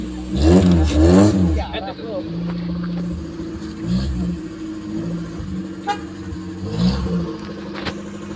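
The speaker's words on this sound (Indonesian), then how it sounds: "aduh motor siapa tuh" A motorcycle passes close by on a mountain road through the Gunung Mas agro-tourism area in Puncak, Bogor, its engine rising loud at first and then fading under ongoing traffic noise, with people talking over it.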